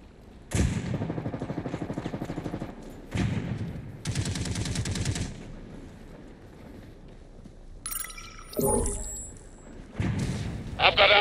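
Rapid automatic gunfire in a PvP shooter video game, sustained bursts of close, heavy shots separated by brief pauses, with electronic game sounds and a voice briefly heard near the end.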